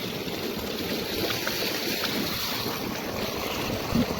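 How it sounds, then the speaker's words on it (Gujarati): Water gushing from a farm borewell motor pipe, a loud continuous broadband rush with a windy, surf-like texture that stays steady and close throughout. "બે ઢાંકણામાં પાણી આવે ભાઈ ભાઈ ભાઈ ભાઈ જો પાણી આ હે ને બોરની મોટર"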